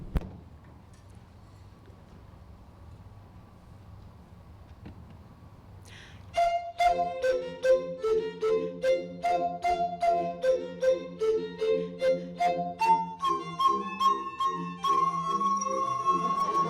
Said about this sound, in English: So Ann will now play just the opening of that on the piccolo bottles.